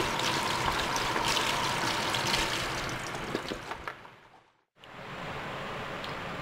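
Rose apple (macopa) fruit being rinsed in running water before a vinaigrette is made, with a steady broadband splash and trickle that fades toward the end, drops out briefly, then resumes at a lower level.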